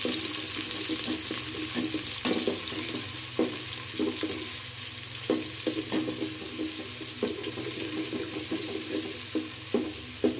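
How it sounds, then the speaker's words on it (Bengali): Chopped onions frying in hot oil in a pot until light brown for plain pulao, giving a continuous hissing, watery sizzle with occasional soft stirring clicks, fairly close and steady. "পেঁয়াজ কুচিটা দিয়ে আমি হালকা ব্রাউন করে ভেজে নিব।"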